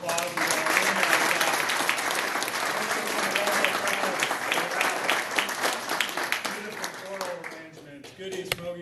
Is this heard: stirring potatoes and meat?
no